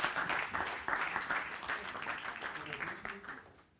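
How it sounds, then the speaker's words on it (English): An audience at a hackathon finals event on rebuilding Ukraine with wood applauds a team, a short burst of clapping that swells and fades, with voices mixed in under it. "give them a big round of applause"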